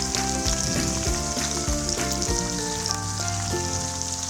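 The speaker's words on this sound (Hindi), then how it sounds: "ये 4 प्याली मेरे पास लहसुन अदरक का पेस्ट था, ये मैं इसमें शामिल कर दूँगी इस टाइम पे, ताकि ये भी फ्राई हो जाए।" Garlic ginger paste for a chicken biryani fries loudly in a pot, a dense close sizzle with crackling pops running straight through, accompanied by steady background music and no talking.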